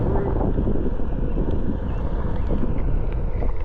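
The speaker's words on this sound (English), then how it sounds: "There's already some wind going 10 miles an hour just down the street" Strong wind buffeting a camera microphone outdoors on a street with wind around 10 miles an hour, a steady loud low rumble filling the whole clip, with a voice faintly present underneath.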